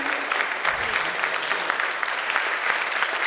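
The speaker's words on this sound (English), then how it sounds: "I really want all of you to give a big round of applause to all of them" Audience applause at a Kumon Hiranandani ceremony, a steady dense wash of many hands clapping close by, sustained and even with no talk over it.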